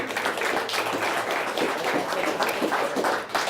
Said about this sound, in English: Let's have another nice round of applause for both of these teams.